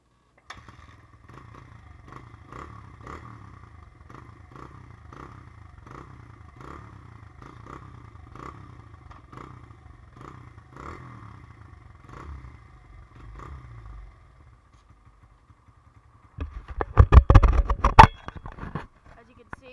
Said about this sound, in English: let's show you guys how easy this bike starts. It's going to be a first kick.